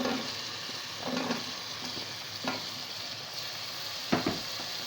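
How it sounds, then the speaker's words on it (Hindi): Potatoes fry with spice masala in a pan, a steady soft sizzle with a few stirring scrapes and clinks, close up and fairly quiet, with no talking. "अब इसमें मैं सब्जियां डालूंगी, लेकिन सब्जियों में सबसे पहले मैं आलू डालूंगी।"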